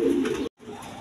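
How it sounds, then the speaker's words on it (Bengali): A pair of red-eyed Giribaj high-flying pigeons coo nearby in a low, throaty murmur, broken by a brief silent gap before the soft calls resume. "এইখানে এক পেয়ার হাই ফ্লাইং গিরিবাজ কবুতর দেখেন"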